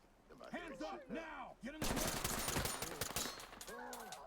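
Rapid bursts of automatic gunfire in the tactical shooter Ready or Not, a dense stream of shots that starts abruptly midway, with someone talking over the firing before and after.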